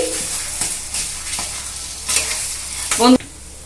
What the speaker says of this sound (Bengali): বাটা মশলাটা আমি কিন্তু আলুর সঙ্গে খুব সুন্দর করে কষে কষে মিশিয়ে নিচ্ছি